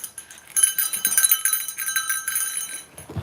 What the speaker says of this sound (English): I unsheathed the bear bell